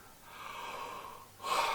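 A dog yawns with a long, breathy exhale that swells and fades, then ends in a brief, louder squeaky whine, close and quiet, with no one speaking.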